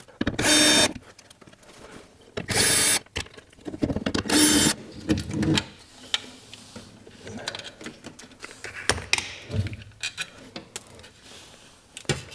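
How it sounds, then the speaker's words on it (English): Screws being undone from an old stereo console, a power driver whirring in several loud bursts near the start, then softer scraping, clicking and handling of metal and wood parts at close range. "I think we can start by undoing these screws here"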